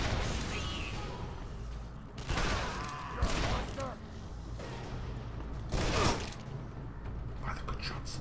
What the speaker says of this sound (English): Whoa, machine guns!